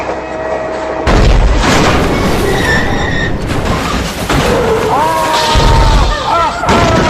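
A cartoon train leaves its line on a bridge and crashes into a river. Loud booming impacts and metallic crashes play over a continuous rumble, with short squealing, whistle-like tones in between.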